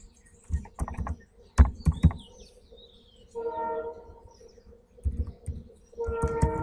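Clicks and taps from a computer keyboard while JavaScript code is typed, coming in short irregular bursts close to the listener, with a brief tonal chirp and hum between the keystroke clusters.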